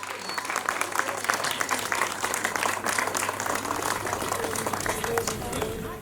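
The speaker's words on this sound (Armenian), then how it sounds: "Եկեք բոլորս բարձր ծափահարենք այս մեծ իրադարձության մի մասնիկը լինելու համար։" An audience claps at a celebratory event, a dense, steady wave of applause from a crowd lasting several seconds at moderate level.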